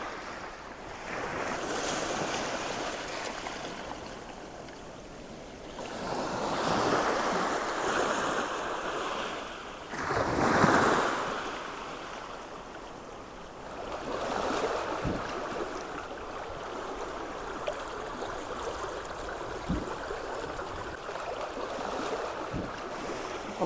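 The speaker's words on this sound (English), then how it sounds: "I'm dodging the incoming tide again" Ocean waves from the incoming tide wash onto the beach at Traeth Llydan, Rhosneigr, Anglesey: a continuous surf roar with swelling breakers, steady wind buffeting the microphone and a few faint knocks, with no voices.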